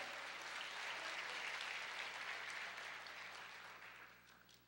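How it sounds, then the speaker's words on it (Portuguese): Church congregation applauding during a service, a faint steady wash of clapping that tapers off toward the end. "Aplauda o Senhor."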